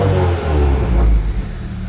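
A 2015-2018 Subaru WRX fitted with a Perrin header revs up and settles back, a loud close throaty engine swell; no distinct turbo whistle stands out.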